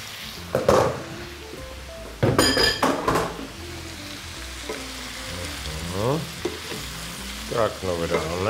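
Squash, cauliflower and broccoli stir-fried in a pan sizzle steadily while a utensil scrapes and clinks against the pan in a few sharp bursts, with brief speech sounds in the latter half.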